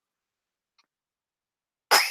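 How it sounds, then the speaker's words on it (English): A single abrupt cough bursts out close to the microphone after near silence, loud and brief, cut off at the end. "Excuse the coughing."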